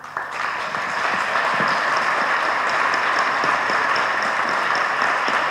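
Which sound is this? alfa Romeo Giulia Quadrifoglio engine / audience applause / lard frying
audience applause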